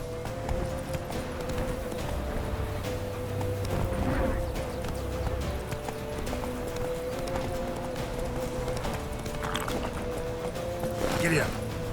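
In The Witcher 3, a horse gallops with a steady run of hoofbeats under game music and ambient sound, with a voice heard briefly over it.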